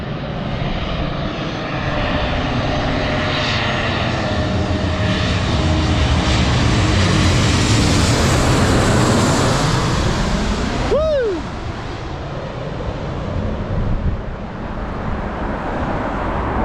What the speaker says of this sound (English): it looks like we're going to have a plane flying right over our heads.